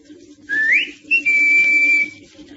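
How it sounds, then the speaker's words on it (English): A sharp human whistle rings out in two parts, a short rising note followed by a longer sustained high tone, blown loudly nearby outdoors to call someone. "Well, I'll give him the whistle."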